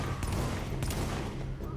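Rapid gunfire in The Division, fired at an explosive barrel in a subway morgue and striking a railing instead: a quick burst of sharp, fairly faint shots over steady background game noise.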